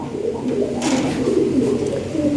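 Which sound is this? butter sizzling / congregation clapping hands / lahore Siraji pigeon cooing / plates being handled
lahore Siraji pigeon cooing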